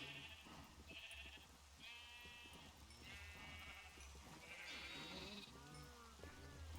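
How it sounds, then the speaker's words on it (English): Minecraft sheep bleat in several short, overlapping calls, near and clear, with occasional cow-like lows underneath and no speech. "I'll get a few more sheep."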